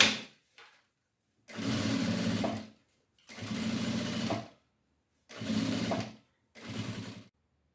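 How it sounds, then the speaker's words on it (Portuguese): A sewing machine stitches fabric for a bag in four separate runs of steady, close mechanical whirring, each lasting about a second, with quiet pauses between them. "Eu vou passar um pouquinho o tecido e vou começar a costurar um pouquinho depois do meio."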